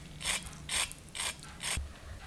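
A crispy fried veg cutlet is snapped apart close up, giving four sharp, evenly spaced crackling crunches over about two seconds, alone against a quiet background.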